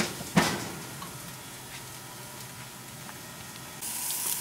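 A shrimp-stuffed hamburger sizzling on a hot cooking surface, a steady soft hiss after a brief sharp clatter at the start, rising a little louder near the end, close and without speech.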